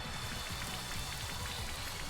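Rain Dance in Pokemon Sword & Shield brings a dense, steady patter of game rain, continuous and even with no breaks or voices.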